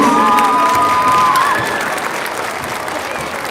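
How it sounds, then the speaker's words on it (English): Audience applauds theater performers of a school theater company at a district arts showcase, loud dense clapping with some cheering that fades gradually toward the end. "Let's give our performers another very big round of applause, please."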